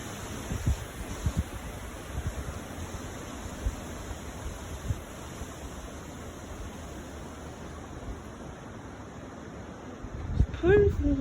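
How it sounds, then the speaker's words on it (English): Strong wind of about 25 mph, with gusts near 45 mph, roars across a patio and street trees as a steady broadband rush with rustling and small buffeting bumps on the microphone. "It's pretty windy."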